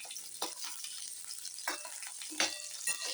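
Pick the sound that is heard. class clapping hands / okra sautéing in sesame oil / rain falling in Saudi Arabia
okra sautéing in sesame oil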